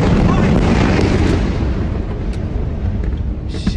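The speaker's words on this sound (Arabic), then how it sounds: "انفجار نووي" The Beirut port explosion unleashes a loud, continuous broadband roar and rumble that slowly settles and fades over a few seconds.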